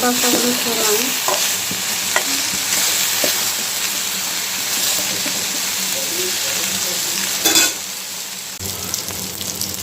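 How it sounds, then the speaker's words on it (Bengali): Small potatoes fry in a pan with turmeric, salt and green chillies, a steady dense sizzle with occasional stirring scrapes and a brief louder burst near the end. "আলুগুলো একটু ভেজে নেবো"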